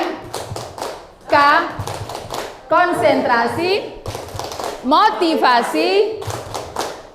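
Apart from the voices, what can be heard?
rhythmic hand claps in a clapping chant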